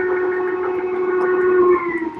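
Steam-style train whistle blowing one long sustained tone with layered harmonics, loud and steady for about two seconds before cutting off, in a model railroad running session.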